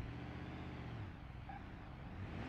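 A car engine revving in the BeamNG driving simulator, a steady loud drone with a rising and falling pitch that swells again near the end, with no talk over it.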